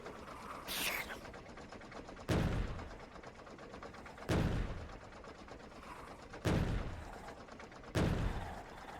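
Tank cannon firing in the Factorio video game, four heavy booming shots spaced a couple of seconds apart over a continuous rumbling background, with a voice calling out between blasts.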